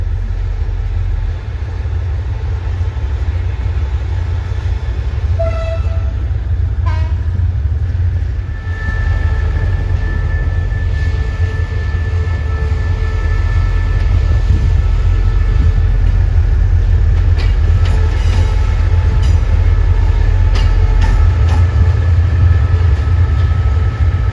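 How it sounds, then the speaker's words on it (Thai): A diesel train, number 947, passes near Hat Yai Junction in Thailand with a steady heavy rumble and rolling wagon noise throughout, plus faint clicks and a rising tone midway. "น่าจะเป็นดีเซนของขบวน 947 นะครับ"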